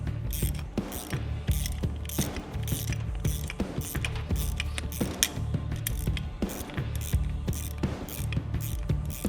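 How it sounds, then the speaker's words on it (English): A 7/16 wrench ratchets steadily as it tightens a bolt on a Heretic Studios fog light bracket on a Jeep Gladiator, giving a close, continuous run of quick metallic clicks with no talk. "Use a 7/16 wrench to tighten the bolt just enough so the quattro can slide back and forth."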